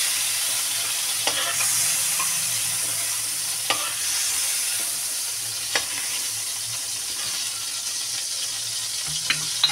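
Shrimp frying in hot oil in a pan, a steady close sizzle with occasional light clinks and scrapes as the pieces are stirred, no voices.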